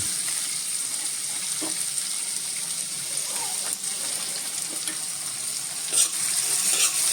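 Onion frying in oil with lentils for a tomato upma, a dense, even sizzle close up, with a few light stirring clicks and no voice.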